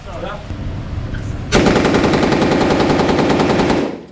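An Uzi in an arcade shooting game at a fishing trade show fires one sustained, rapid burst of loud electronic machine-gun shots for about two and a half seconds, preceded by background chatter.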